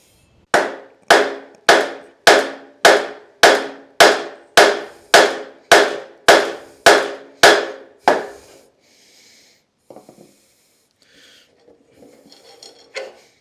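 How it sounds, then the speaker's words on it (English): Repeated hammer-like blows with a block splitter against a seized wheel on a Victa two-stroke go-kart, about a dozen sharp metallic strikes in steady rhythm, loud and close, then quiet with faint clinks. "with the help of my block splitter, we've managed to get that wheel off"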